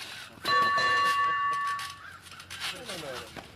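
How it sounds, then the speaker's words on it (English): A single bright electronic bell tone rings out at a trampoline wrestling match, sustained for about a second over crowd noise and shouting voices that continue around it. "Ring the bell."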